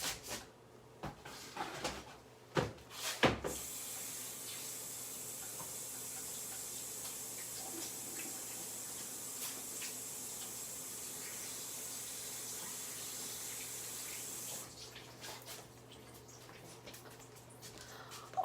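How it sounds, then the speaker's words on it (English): Tap water runs steadily into a kitchen sink during washing up between cooking steps for a Moroccan kefta tagine, a continuous moderate wash after a few short clatters at the start, with no talking. "Always lots of washing up in between."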